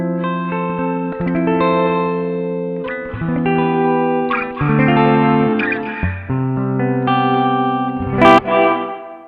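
Electric guitar played through a Strymon BlueSky reverb pedal with pre-delay turned to maximum, loud sustained chords and notes whose lush reverb tail arrives a beat late, blooming into a wide shimmering wash with a sharp bright accent near the end.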